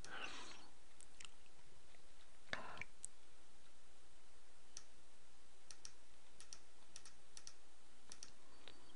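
Keys on a computer keyboard tapped in short, sparse bursts while editing text in Photoshop, soft close clicks spread over a quiet room background with a brief louder clatter near the start.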